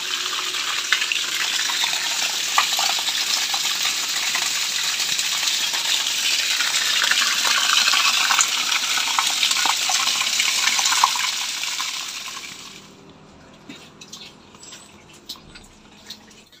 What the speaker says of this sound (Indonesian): proses pengurasan kolam lele yang saya punya sudah selesai